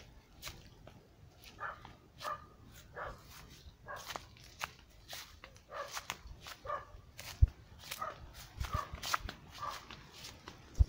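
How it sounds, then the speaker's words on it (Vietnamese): Several dogs bark in scattered, repeated bursts at a moderate distance, with outdoor background noise and occasional footsteps between barks. "Chó nó sủa kinh nè."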